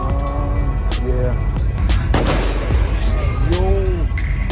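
Sharp, loud exhaust pops crack out from cars at a car meet, sounding like gunshots, with engines revving and people talking nearby.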